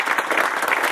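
An audience fills a hall with steady, dense applause as a speaker is welcomed, a continuous wash of clapping hands with no break.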